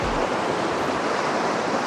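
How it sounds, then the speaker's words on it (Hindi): Steady rushing water of a mountain stream or river along a forest track, a close, continuous wash of broadband noise with no voices. "ये जो पानी है, अब ये पता नहीं कोई दरिया है, नाला है, क्या है"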